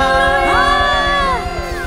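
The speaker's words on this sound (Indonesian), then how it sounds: "Mari jemaat Tuhan kasih tepuk tangan yang terbaik buat Tuhan Allah kita. Sorakan haleluya." A church congregation claps and shouts hallelujah, their loud, rising voices and applause mixing with sustained worship music during an online service.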